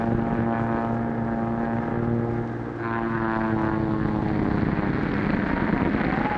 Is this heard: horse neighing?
no